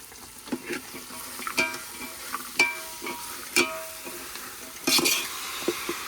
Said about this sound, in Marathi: टाक ह्याच्यात टाक, मी हलवते.